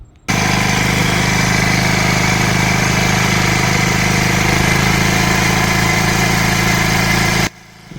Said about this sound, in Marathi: ह्या मशीनचा आवाज खूप मोठा आहे त्याला मोटार आहे आणि जनरेटरवर चालू आहे